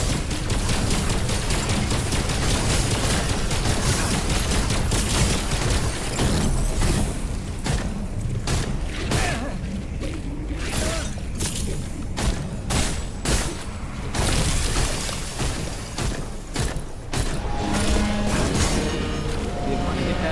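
Dense, continuous crackling bursts and booms of fireworks and combat in the video game Wayfinder, loud and relentless with little pause, with a voice talking over the action.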